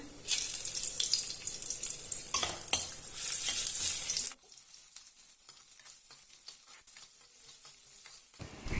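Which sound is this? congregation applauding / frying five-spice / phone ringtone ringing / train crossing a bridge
frying five-spice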